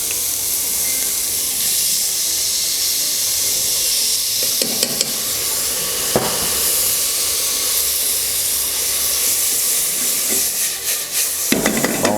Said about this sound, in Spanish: Vamos a empezar a rehogar las cebollas.